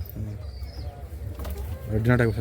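A pigeon at a Kolkata pigeon sale gives low, soft cooing close by, continuing under the clip while a voice speaks over it near the end.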